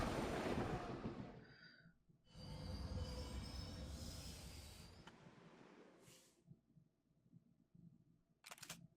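A train car rolls along in the video game Blue Archive, a sustained rumbling clatter with bright squealing overtones that breaks off briefly, then resumes and fades into quieter low rumbling with a short sharp burst near the end.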